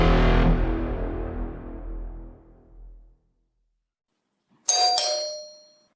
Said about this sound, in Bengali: এটা কলিং বেল বাজছে না?